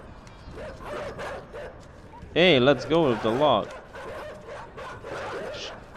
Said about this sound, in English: Oh, it's dogs.